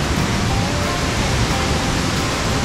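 Suhom waterfall in a forest at Lhoong, Aceh Besar roars as a loud, steady, dense rush of falling water with no breaks, filling the whole short stretch close by.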